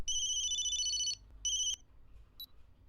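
An incoming call in a video game sounds as a bright electronic ringtone, one trilling burst and then a shorter second, clear and close against near silence, ending with a faint click.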